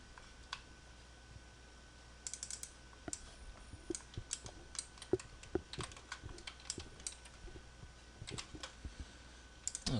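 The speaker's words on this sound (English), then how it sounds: "I'll just type in all the values here." Computer keyboard being typed on while entering values in Maya, quiet irregular clusters of key clicks with short pauses between bursts, close and soft over low room hiss.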